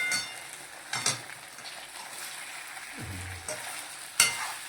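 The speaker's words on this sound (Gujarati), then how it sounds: "હવે ઇડલી નાખી દો નાખી દો ઇડલી બધી નાખી કરી નાખો મિક્સ" Idli pieces stirred in a pan over a low gas flame, a soft sizzle with a few scrapes and knocks of the spoon, fairly quiet and close.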